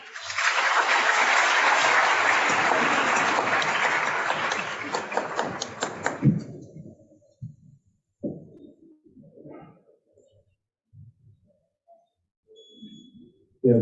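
Conference audience at an energy summit in South Africa clapping, a loud, dense burst of applause for several seconds that fades into scattered claps and faint background noise.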